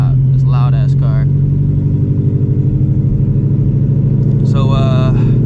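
An 800hp Shelby GT350 V8 rumbles loudly and steadily throughout at close range, holding a low, even drone from inside the car, with short bursts of talk near the start and again near the end.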